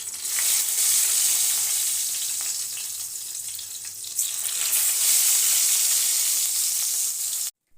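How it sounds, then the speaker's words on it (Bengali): Loud, steady sizzling of eggplant slices frying in hot oil, continuous throughout with a brief stir, then cutting off abruptly at the end. "বাকি বেগুনগুলো একইভাবে ভেজে উঠে নেবো"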